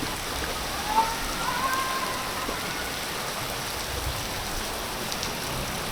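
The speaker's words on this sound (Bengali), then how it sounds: "বাচ্চারা এই বৃষ্টি ঝুম বৃষ্টিতে আসলে কিভাবে ভিজতেছে" Steady, dense heavy monsoon rain pours down in a continuous broadband hiss, with no voices or other sounds standing out.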